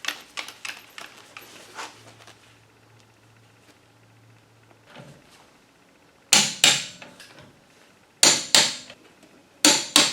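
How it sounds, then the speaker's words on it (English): A torque wrench tightens car lug nuts in a star pattern, giving sharp, loud clicks in quick bursts separated by quieter pauses and softer clatter. "Got my trusty torque wrench"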